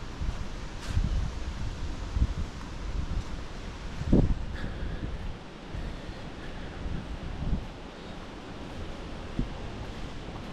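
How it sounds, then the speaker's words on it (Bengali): Stormy cold wind gusts along the Great Ocean Road near rainforest, a rough blustery roar with buffeting bursts against the microphone, fairly close and continuous. "সঙ্গে ঝোড়ো ঠান্ডা হাওয়া।"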